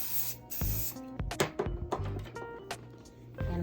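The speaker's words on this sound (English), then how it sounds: "Now I'm gonna go ahead and spray the rest of her hair" Short hissing bursts of an aerosol hairspray sprayed on hair, a few quick sprays with soft rubbing and handling noises in between.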